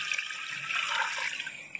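Water pours steadily from a jug into a cooking pot set on a stove for beef trotters, a continuous close splashing gush that lasts a couple of seconds with no talk over it.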